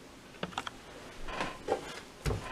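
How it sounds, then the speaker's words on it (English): A knife chops through a sprouting onion in a home kitchen, giving a handful of separate, faint taps and crunches spaced irregularly, with no voices. "Cut that onion off there."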